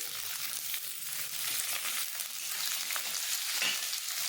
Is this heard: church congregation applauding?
no